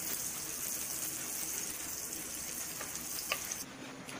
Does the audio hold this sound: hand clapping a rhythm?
no